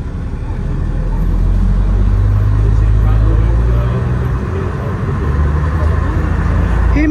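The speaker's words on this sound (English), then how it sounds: "Who misses this sound? Or you don't really like the buses?" A preserved London Country Park Royal Daimler Fleetline bus engine runs with a loud, low, steady rumble and slight rises in revs, while people talk nearby.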